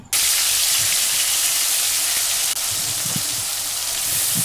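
Onion paste frying in oil with dried red chilli and cumin in a pan, a steady close broadband sizzle with faint crackles, continuous and loud throughout with no talking.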